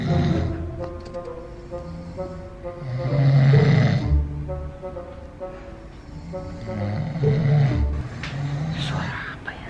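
A person snores loudly and close by, with deep, rattling drawn-out breaths in a slow repeating rhythm, while other people talk and laugh quietly in the background.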